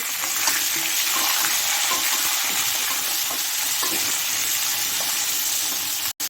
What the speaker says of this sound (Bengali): এবার এর মধ্যে আমি খিচুড়ি সবজিটা দিয়ে দেবো, দিয়ে ভেজে নেব